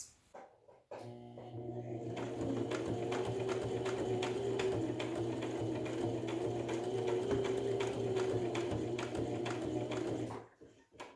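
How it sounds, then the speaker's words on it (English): A sewing machine stitching rows back and forth on pyjama fabric, a steady close mechanical whirring hum that starts abruptly, runs for about ten seconds with a brief change in pitch midway, then stops. "take that to your machine, and same as with the little loops, a couple rows of stitching here back and forth to secure in place"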